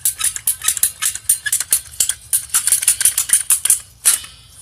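Flexible irrigation tubing for a drip line is cut with a rapid series of sharp, close snipping clicks, dozens in quick irregular succession, each crisp and bright.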